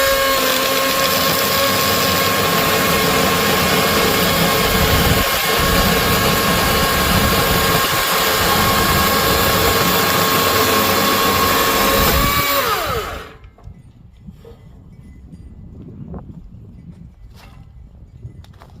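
A gas-powered chainsaw roars steadily at high revs while cutting small firewood, then cuts off abruptly, leaving quiet with a few faint clicks and knocks.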